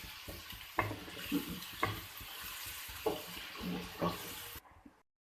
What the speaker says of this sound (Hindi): मैं हल्का हल्का लहसुन को भूनती हूँ और फिर इसके बाद डालती हूँ